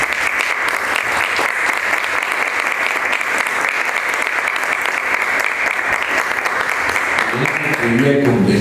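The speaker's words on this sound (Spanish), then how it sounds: "pido un aplauso para el maestro Daniel" Sustained audience applause at a book presentation on ballet and modern dance in Veracruz, a steady dense roll of many hands clapping that holds evenly throughout, with a voice starting up near the end.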